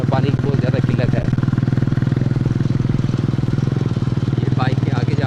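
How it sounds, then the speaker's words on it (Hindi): Several motorcycles ride ahead on a road through the Do Dila jungle near the Pakistan–India border, a loud steady engine drone throughout with a faint voice at moments. "मोटरसाइकिल 3-4 मोटरसाइकिल आगे जा रहे हैं"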